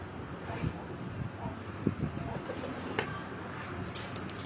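Breeder pigeons on a rooftop along Chak Beli Road in Rawat, with soft, low cooing under wind noise on the microphone and a few sharp clicks and knocks.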